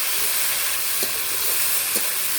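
Bitter gourd and potato fry with turmeric and salt on a wood-burning stove, giving a steady, loud, close sizzle and hiss throughout with faint stirring scrapes.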